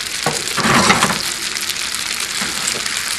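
Spicy crab sauce hits a hot pan over medium-high heat for crab pasta, bursting into a loud, steady sizzle that peaks early and settles into a constant crackle while being stirred.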